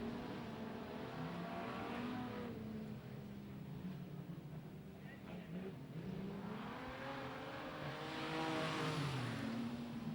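Super Street race cars roar around Gympie Speedway at night, engines revving and rising as they pass, a continuous distant track din with swells near the end.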